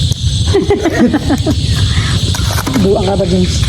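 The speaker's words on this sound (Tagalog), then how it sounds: "tumutunog na yung ano, kuliglig" Crickets chirp steadily at dusk as darkness falls outdoors, a constant high trill under nearby conversation between two people.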